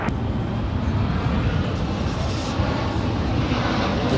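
American 1547 airliner taking off on runway 18 left at Dallas DFW airport, a loud, steady jet engine roar with broadband rumble, close and sustained, with no voices.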